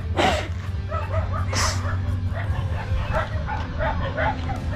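Several dogs in a rural province bark and yip repeatedly in short bursts over a constant low background hum, fairly near and loud throughout.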